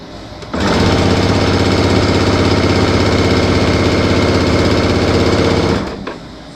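A sewing machine stitches jelly roll quilt strips in one loud, continuous run of rapid mechanical whirring that starts abruptly and stops after about five seconds.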